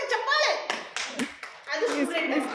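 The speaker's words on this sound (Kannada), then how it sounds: "ಹಾಕೊಳ್ಳಿ ಒಳ್ಳೆ ಚಪ್ಪಾಳೆ" Children in a Science Day audience clap in bursts with brief gaps, lively and fairly close, while a voice and other chatter come through the applause.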